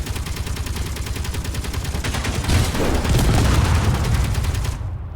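An automated turret in a Mars survival video game fires loud, rapid, evenly spaced shots in a continuous stream, with a heavier boom swelling midway before the barrage cuts off.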